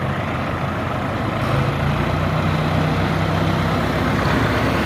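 Two trucks working together to hoist a large container house out of a tight space, their engines rumbling loudly and steadily nearby, with a low droning hum rising partway through.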